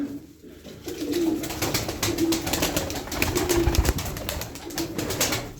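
Tumbler pigeons coo repeatedly in a loft, their low throaty calls recurring every second or so under a steady hum from a Lombardini water pump engine, with faint clattering nearby.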